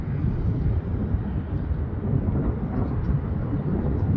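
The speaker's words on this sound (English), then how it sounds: "It looks like an A320." Jetstar Airbus A320-200 airliner at Canberra International Airport, heard as a steady, loud low-frequency roar that runs without a break through the whole stretch, with some wind buffeting on the microphone.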